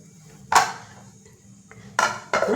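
A metal lid clatters onto a pan of egg sauce with a ghee topping, giving a sharp clank and then a rattling double clatter as it settles, close by with no talk.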